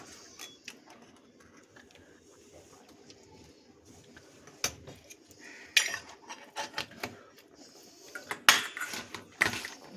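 Turmeric powder being mixed into a batter for fat fritters in a bowl: scattered clinks and scrapes, sparse at first and then quicker and louder toward the end, with no talk.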